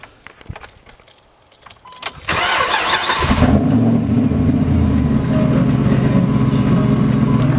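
Pickup truck started with a rattle of keys and a brief cranking whir, then the engine catches and settles into a loud, steady idle rumble close by.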